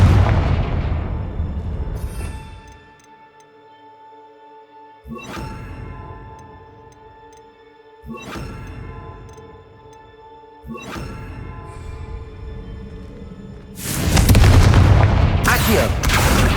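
Blasting spells from Hogwarts Legacy erupt in a series of loud booming explosions, each decaying with a ringing tail, ending in a heavy, sustained roar.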